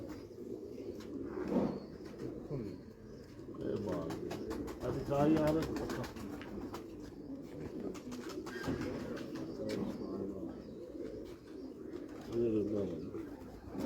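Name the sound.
pigeons cooing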